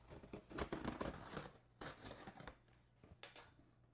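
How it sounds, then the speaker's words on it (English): A knife cutting and tearing open cardboard gift boxes during an unboxing, with close scraping, slicing and rustling bursts, some brief clinks, and short pauses between strokes. "So let's check it out with a knife."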